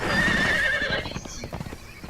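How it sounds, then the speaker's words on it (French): A horse in the video game Conan Exiles lets out a loud, wavering whinny, followed by quick rhythmic hoofbeats as it gallops away, close and clear with no talk. "Parce qu'après le cheval il saute et tu prends des dégâts."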